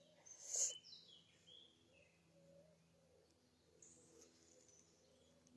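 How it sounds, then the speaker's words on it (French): Turtle doves call faintly in a forest, soft low cooing phrases drifting from a distance in a quiet setting, with one brief brighter chirp from another bird near the start. "Vous entendez les tourterelles?"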